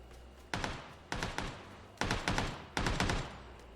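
Gunfire in the video game PUBG: four loud bursts of rapid automatic shots, each a quick cluster of sharp cracks separated by brief pauses, close and alone without talk.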